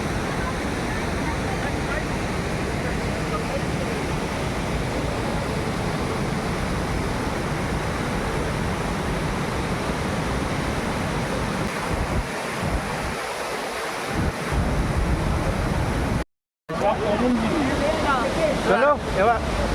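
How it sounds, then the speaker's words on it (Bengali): Dassam Falls near Ranchi rushes with strong winter flow, a loud, continuous broadband roar mixed with wind buffeting on the mic and a brief dropout near the end. "আর ওয়াটারফলটা আমরা দেখতে পাচ্ছি। মানে এখন শীতকালেও এত জলের ফোর্স আছে"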